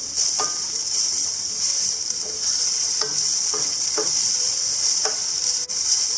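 Onions sautéing and being stirred in a frying pan with hot spices, a steady bright sizzle broken by several sharp scrapes and taps of the spoon against the pan at irregular intervals, close and alone.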